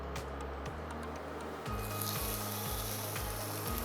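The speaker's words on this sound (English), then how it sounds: "And you want to hear the sizzle." Chicken sizzles steadily in a lightly oiled ridged grill pan, a loud continuous crackling hiss with a low rhythmic hum underneath, no talking.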